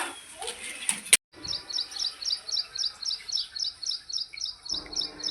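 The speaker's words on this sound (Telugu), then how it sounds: "అందులో ఫుల్ పిట్టలు అయితే ఉంటాయి. మంచి సౌండ్ అయితే చేస్తున్నాయి." Birds in nest boxes chirp in a quick, regular series of high, thin calls, about a dozen evenly spaced, close and fairly faint, after a brief rustle and a sharp knock.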